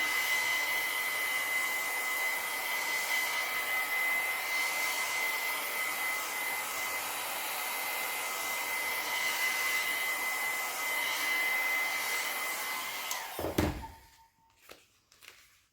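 A handheld hair dryer blows steadily and loudly at close range, drying a surface before it is laid back down. It cuts off near the end, followed by a few soft thumps and handling noises.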